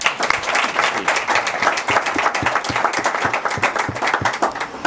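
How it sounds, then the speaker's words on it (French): An audience at a party political gathering applauds a senator, a steady, loud wash of many hands clapping that continues throughout with no talk over it. "nous avons le sénateur Ilunga Chiwila que je vous demande d'applaudir en passant"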